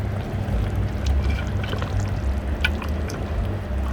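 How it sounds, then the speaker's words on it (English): A pot of curried goat bubbles over a flame, a steady low rumbling churn with small watery pops and gurgles, close and even throughout. "the pot is bubbling up nicely"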